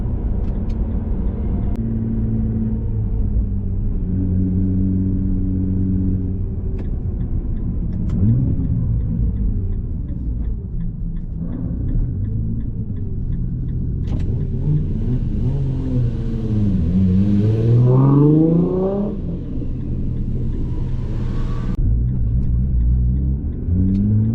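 A Nissan Skyline R34 GTR drives past on a road, its deep engine rumble building and revving hard as it nears, then sweeping away in a rising and falling pass-by note, with no voices.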